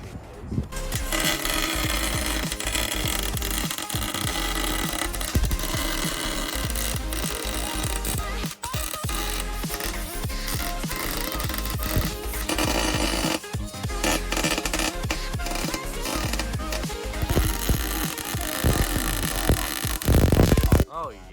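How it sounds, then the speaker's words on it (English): Welding on the differential of a Lexus GS430, a steady loud crackling buzz running for about twenty seconds with a few short breaks and a louder burst near the end. "Welding the diff on this Lexus."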